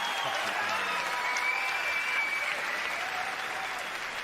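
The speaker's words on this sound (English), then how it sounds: "I'll give you a clap." Steady applause from a live comedy audience rolls on continuously, fairly soft and distant, with a thin high tone running through part of it.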